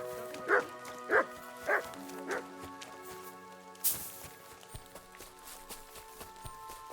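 Dog barking in the medieval video game Kingdom Come, four clear evenly spaced barks up close, followed by hoofbeats and quieter background game ambience.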